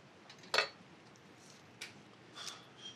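A knife slicing through an onion, cutting it in half on a board, gives one sharp close thud at first, then fainter taps and knocks. No talking.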